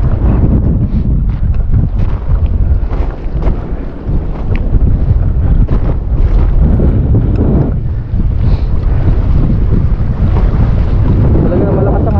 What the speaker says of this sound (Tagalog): Talaga malakas ang hangin.